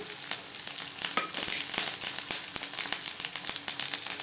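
Garlic and curry leaves fry in hot oil in a pan for a ridged gourd peel chutney, a dense, steady close sizzle with sharp little crackles and pops throughout, no talk.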